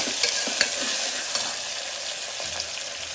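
Tomato and peas frying in a pan while being stirred, a steady close sizzle with a few light scrapes and clicks of a spoon against the pan, no voices.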